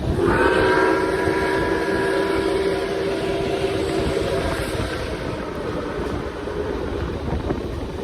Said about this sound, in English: Gotta love the echo of that whistle.